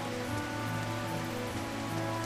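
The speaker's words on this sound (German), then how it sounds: "Ja, es regnet." Steady rain falls in the video game Kitaria Fables, a dense, even hiss of drops on surfaces running throughout, layered over soft sustained game music tones and free of speech.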